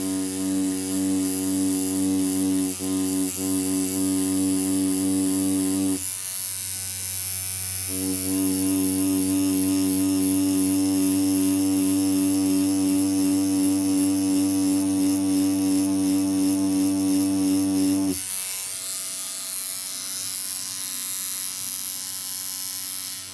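A Jackhammer rotary tattoo machine with a needle bar fitted runs loudly up close, a strong steady electric buzz with rich harmonics that cuts out briefly around six seconds, resumes, then drops near the end.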